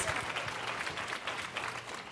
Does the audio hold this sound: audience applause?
yes